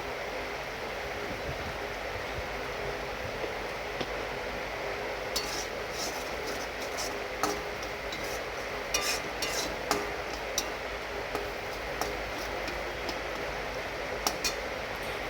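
Onion, ginger, garlic and green chilli paste sautés with spices in a pan: a soft, continuous sizzle broken by scattered clicks and scrapes of a spoon stirring against the metal.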